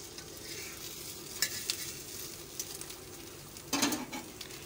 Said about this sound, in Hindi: अब हम इसे 1 से 2 मिनट हल्की आंच पे पकाएंगे।